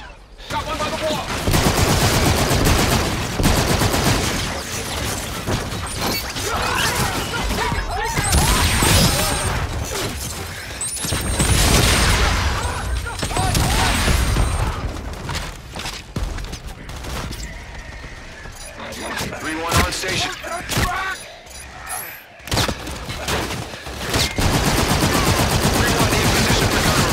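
Rapid machine-gun bursts and heavy gunfire crackle loudly through a space combat mission on Europa in COD: Infinite Warfare, sustained volleys broken by brief lulls, with radio chatter underneath.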